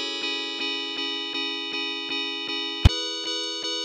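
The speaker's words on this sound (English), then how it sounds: "So there we can hear that kick drum ever so slightly jumps in right there at the end" A looped audio sample in Ableton Live repeats a sustained, effects-laden tonal chord with an even pulse about every 0.4 seconds, and a single sharp kick drum thump briefly slips in near the end of the loop.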